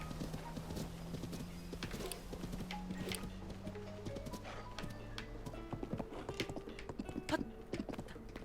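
A horse's hooves clop in a quick steady rhythm in the video game Zelda: Tears of the Kingdom, with occasional whinnies and snorts mixed in. No one speaks over the sound.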